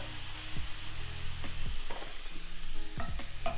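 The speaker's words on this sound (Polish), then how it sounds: "Soczek z pomarańczy też wędruje na deseczkę, na patelnię." Orange juice sizzles in a hot frying pan with orange pieces for a sweet flambéed omelette, a steady hiss punctuated by several soft scraping stirs and clatters close by.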